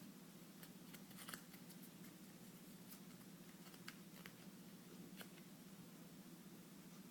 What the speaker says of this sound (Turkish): Kağıdı açtım.